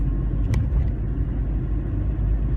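Hyundai i20 car engine holding a steady low rumble after a gear shift, heard from inside the cabin at constant loudness, with a brief faint click near the start and no talking.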